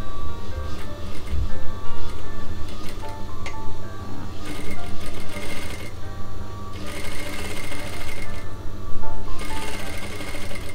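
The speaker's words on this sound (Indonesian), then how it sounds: "Kain yang kita telah iron tadi kita akan jahit ya." A sewing machine stitches ironed pillowcase fabric, its motor and needle running in a loud, close, steady chatter that surges and slows in bursts without pausing for long.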